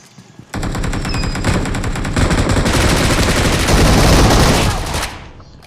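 Automatic gunfire in the battle royale game PUBG, a sudden, loud, sustained rattle of rapid shots lasting several seconds before stopping, with voices talking underneath.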